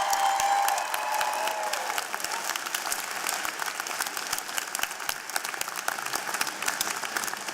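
A convocation ceremony audience applauds a singer with sustained, dense clapping from a large crowd in a hall. It stays steady and even for several seconds.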